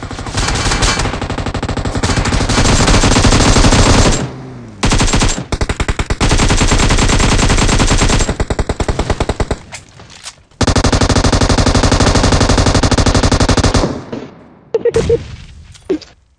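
An M249 machine gun fires in long, continuous automatic bursts in PUBG Mobile, very loud and close, broken by brief pauses between sprays.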